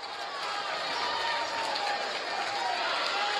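Crowd of fans at an NCAA men's volleyball match between BYU and Pepperdine, cheering and applauding steadily after a long rally, a broad, continuous wash of crowd noise from start to finish.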